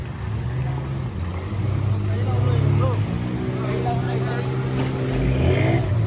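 A motorboat passes on open water, its engine a low, steady droning hum that rises and falls, mixed with rushing wind noise and some talk nearby.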